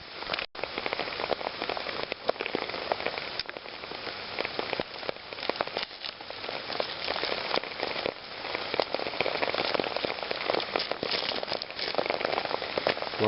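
Steady outdoor rain falling on ground and foliage, a dense continuous patter with scattered louder drops, heard alone without voices.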